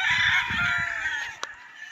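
A local Thompson gamefowl broodcock with a straight comb crows once, loud and close, a strained drawn-out call lasting over a second, followed by a brief sharp sound as it ends.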